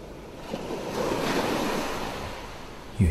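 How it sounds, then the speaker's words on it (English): Gentle waves roll onto a beach shore and draw back, a soft steady wash of surf with a little wind noise, rising slightly in the middle and holding alone without any voices. "You hear the gentle rush of water as the tide whooshes over the shore and your feet, and then recedes back into the sea."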